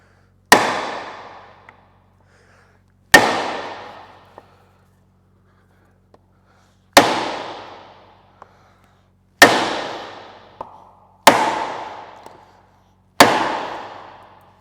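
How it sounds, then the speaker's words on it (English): Six sharp metallic strikes of a soft blow hammer on a seized engine of an old Caterpillar road grader, each ringing out and fading before the next, spaced a few seconds apart and loud with nothing else in between. "Just using a soft blow hammer."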